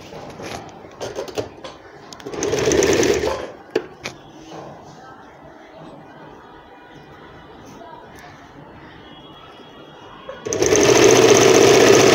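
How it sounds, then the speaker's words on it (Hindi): Working on an umbrella frock, a sewing machine stitches a folded quarter-inch sleeve hem in two bursts, a short run of rapid whirring early on and a longer steady run at the end, with quieter handling noise and some talking between them. "चलो इसकी सिलाई लगाते हैं।"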